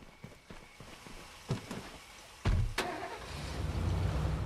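A truck engine starts up in the State of Decay video game: a few clicks and shuffling sounds, then a sharp crank and the engine catching into a steady mid-pitched idle that grows slightly louder.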